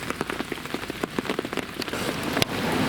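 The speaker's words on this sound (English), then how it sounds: "Another rain update." Steady rain pattering on a fishing bivvy during a carp session, dense close drops tapping the fabric continuously with no voices.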